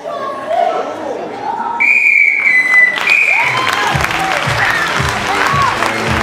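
A referee's whistle sounds at a national improv theatre championship final in a large theatre hall: a sustained shrill blast mid-clip, rising over loud audience applause and crowd noise that continue around it.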